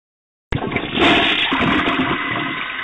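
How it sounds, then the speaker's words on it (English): A toilet flushes loudly and close, a sudden rushing surge of water that starts abruptly and keeps swirling and draining steadily to the end, with no talking over it. "The prince just used the John."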